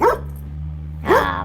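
A neighbor's dog barks twice, sharp and fairly close, with a pause between the two barks and a low steady street hum beneath; no talking.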